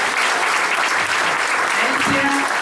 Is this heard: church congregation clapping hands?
yes